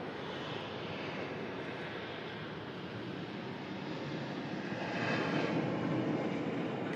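A jet airliner climbs steeply out of Manchester Airport after takeoff, its engines giving a broad, steady roar at a moderate distance that swells slightly toward the end, with no voices heard.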